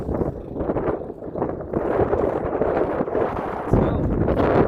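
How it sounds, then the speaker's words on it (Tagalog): Strong wind buffets the microphone in continuous rough gusts, loud and steady throughout, with a brief louder burst near the end. "Medyo malakas na yung hangin."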